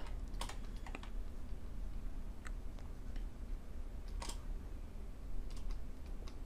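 Computer keyboard keys tapped during 3D shark modeling work, a few scattered clicks and short bursts of keystrokes over a steady low background hum.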